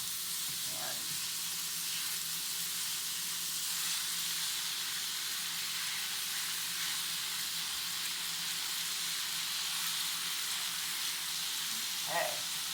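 Ground beef browning in a pan gives off a steady, even sizzle for the whole stretch, close by and alone, with two faint scrapes of a utensil breaking up the meat.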